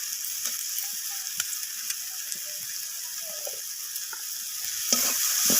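Ginger paste, tomato, onion and spices fry together in a pan for rohu fish kalia, with a steady soft sizzle and repeated light scraping clicks of a spoon stirring the masala.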